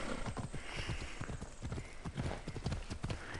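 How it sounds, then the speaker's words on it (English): Rapid clip-clop hoofbeats of a horse galloping in the video game Assassin's Creed Odyssey, a steady driving rhythm close up, with a brief whinny-like call mixed into the busy hooves. "your horse will go faster when you're outside of towns"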